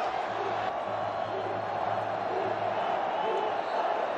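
Vasco football supporters in a stadium at the 2016 Carioca Championship semifinal against Flamengo, a distant steady crowd roar with rhythmic chanting, under a commentator's voice talking throughout.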